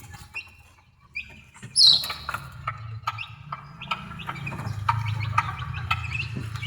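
A mother hen on a backyard farm clucks in short, repeated bursts over a steady low background hum, with one louder squawk early on and quick chirps scattered throughout.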